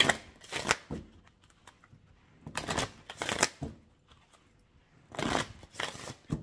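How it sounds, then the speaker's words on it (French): Tarot cards being shuffled and drawn make three separate bursts of crisp riffling flutter, each about a second long, with quiet pauses between them. "Et je vais tirer 5 cartes."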